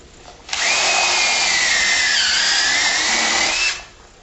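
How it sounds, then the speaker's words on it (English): A power drill bores a pre-drilled hole in a shutter frame, a single loud, close whine lasting about three seconds that starts sharply and winds down at the end. "you're going to need to put a pre-drilled hole on each side of the frame for stability"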